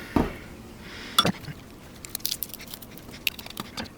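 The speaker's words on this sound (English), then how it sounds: "Now we'll go ahead and give that a good mix." A spoon mixes black pepper and seasonings into a taco sauce in a bowl, producing sparse, quiet clicks and scrapes with short pauses between strokes.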